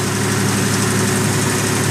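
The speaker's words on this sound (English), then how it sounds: "If you can hear me over the engine" A 1987 Buick Grand National with its turbo engine runs steadily at idle close by, a loud, even low rumble with a constant hum and no talk.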